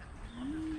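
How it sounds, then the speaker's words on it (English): Doves and pigeons in an aviary at a wildlife park, a single low soft coo rising gently over faint outdoor background hiss, fairly distant. "Mainly some doves and pigeons really, you can hear them talking as well."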